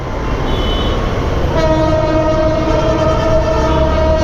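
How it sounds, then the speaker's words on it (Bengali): A train rumbles steadily past at close range, loud and continuous, with a sustained horn tone entering partway through and holding to the end; no talking. "পাশ দিয়ে ট্রেন যাচ্ছে"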